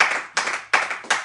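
Congregation applauding during a church service, short bursts of brisk hand clapping that swell and fade in quick waves, close and fairly loud.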